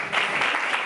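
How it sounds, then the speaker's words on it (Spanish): Audience applause, a dense burst of clapping held for under a second, loud and close. "no aplaudáis esto"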